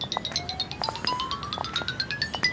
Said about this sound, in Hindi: इस वक्त किसकी कॉल आ रही है सुबह सुबह?